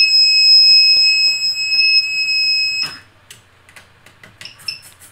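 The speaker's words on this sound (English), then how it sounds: "It shouldn't do a continuous beep." A SMARS Arduino robot beeps with a loud, continuous two-tone electronic tone when plugged in, lasting nearly three seconds before cutting off, followed by faint clicks and small whirring noises.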